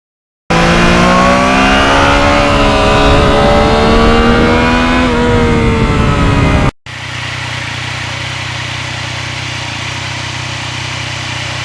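A 2020 Yamaha MT-09 cross-plane triple revs hard and close for about six seconds, its pitch climbing and settling, before cutting abruptly to a steady rush of wind and road noise.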